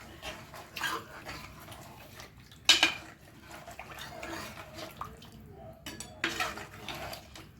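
A spoon or ladle scrapes and clinks against a pot while Kerala style duck roast is stirred, a few sharp metallic knocks between softer scraping, close and moderately quiet.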